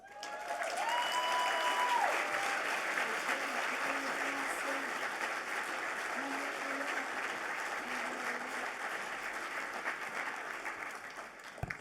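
An audience at a Martin Luther King Jr. community celebration applauds, with loud, sustained clapping and faint crowd noise that persists through the whole stretch.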